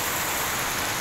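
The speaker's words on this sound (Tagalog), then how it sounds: "Binabayo na po tayo ng malakas na ulan." Heavy rain from Typhoon Ulysses in Silang, Cavite, a dense, steady hiss of downpour on surfaces, constant and enveloping with no pauses.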